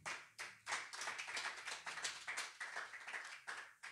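A congregation at a French-language evangelical church service bursts into applause, a dense, steady clapping that carries on for several seconds with no voices over it.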